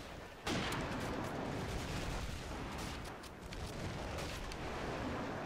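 Friendly airstrike in the video game Call of Duty 4, heavy continuous rumbling blasts and crackling gunfire that stay dense and loud throughout, with no clear pauses.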